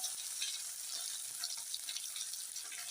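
Snakehead fish fries crisp in a pan, a steady soft sizzle and crackle with faint stirring, heard alone without talk.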